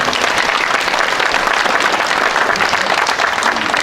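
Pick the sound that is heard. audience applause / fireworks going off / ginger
audience applause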